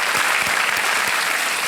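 Studio audience on the KBC quiz show set breaking into loud, dense clapping that holds steady throughout the brief moment with no one talking over it.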